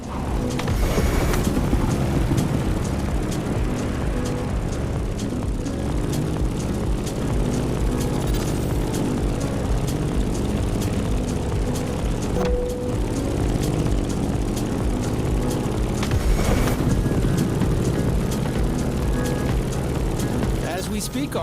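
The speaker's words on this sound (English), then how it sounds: "In the cockpit of a stunning Grumman F8F Bearcat, or simply the Bear." A Grumman F8F Bearcat propeller fighter flies in the video game The Crew Motorfest, its engine a loud, continuous droning hum with steady tonal harmonics that persists throughout with little change in level.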